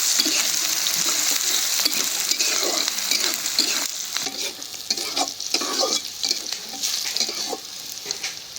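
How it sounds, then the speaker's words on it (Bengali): Garlic and onion frying in a pan until browned, a steady bright sizzle with repeated scraping and stirring strokes, close and continuous with no speech. "রসুন পেঁয়াজ একদম লাল করে ভেজে দিলাম"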